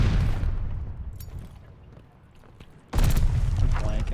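A grenade blows up in a first-person shooter with a sudden heavy boom that rumbles on loudly, arriving after a quieter stretch of background game noise.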